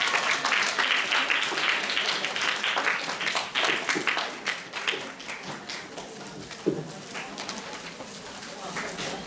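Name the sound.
audience applause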